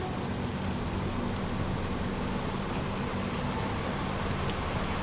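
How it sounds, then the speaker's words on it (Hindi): Heavy rain pours steadily during a train journey on the Goa Sampark Kranti Express, a dense continuous hiss of drops drumming on surfaces with a low rumble underneath, no voices. "बारिश देखो, क्या बारिश लग गई है यार,"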